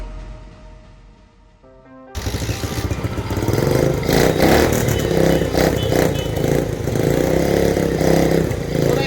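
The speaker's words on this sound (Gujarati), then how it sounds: "બાઇક ચાલુ કરી દીધું છે આપણે." A Bajaj CT 100 motorcycle converted to a cafe racer fires up after a quieter stretch, then runs loudly and steadily with a rough, clattering exhaust tone close to the microphone.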